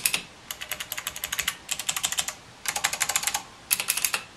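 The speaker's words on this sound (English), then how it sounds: "you're gonna notice that the MX Blues are a lot higher pitched from the sound" Rapid clicky typing on a keyboard PCB fitted with Cherry MX Blue switches, crisp high-pitched clicks in four quick bursts with short pauses between, close and fairly loud with no talking.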